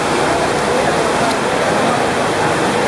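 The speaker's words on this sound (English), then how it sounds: "We're just getting a bit of rain now." Torrential rain pours down over the streets of Old Town Dhaka, Bangladesh, a dense, constant roar of heavy downpour that stays loud and unbroken throughout.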